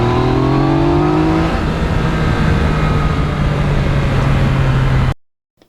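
A 2020 Yamaha MT-09 motorcycle rides along a road, its engine droning loud and steady with one rising pitch sweep early on, under heavy wind rush. The sound cuts off abruptly near the end.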